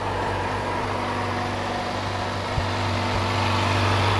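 A 2016 Yamaha R6 motorcycle idles while warming up, a steady close hum with a low tonal drone, one small click partway through and no voices.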